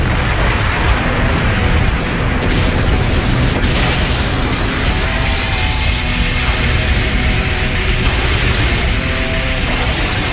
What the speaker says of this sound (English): the Genkidama exploded next to Goku, leaving only stardust